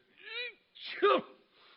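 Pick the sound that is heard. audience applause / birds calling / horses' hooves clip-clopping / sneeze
sneeze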